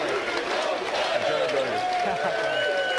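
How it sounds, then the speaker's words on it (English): Audience at the 2014 World Series of Poker final table in Las Vegas gives sustained applause for a departing amateur player, a steady wash of clapping and crowd noise under a commentator speaking throughout. "And a very appreciative crowd"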